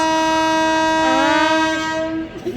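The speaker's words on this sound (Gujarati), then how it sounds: "હોર્નનો અવાજ બહુ જ આવે છે એની માટે સોરી" A train horn blares loud and close at a railway station, one long sustained harmonic blast that wavers in pitch before cutting off near the end.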